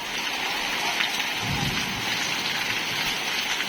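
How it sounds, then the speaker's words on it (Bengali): Heavy rain pours in a dense, steady hiss, with a low rumble of thunder rolling briefly in the middle. "অনেক প্রচুর বৃষ্টি হচ্ছে আজকে"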